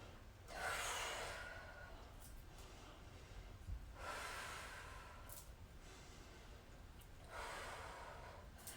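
Slow, audible yoga breaths during a prenatal flow class, three long airy breath sounds spaced a few seconds apart, soft and close against a quiet room.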